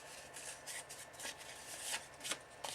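Paper sheet being cut into small 2-inch pieces, a series of quiet crisp snips and rustles spaced irregularly, close but faint.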